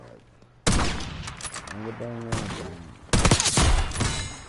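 Gunfire rattles in Call of Duty BO6, a loud burst of rapid shots, a pause with a player talking, then a second heavy volley.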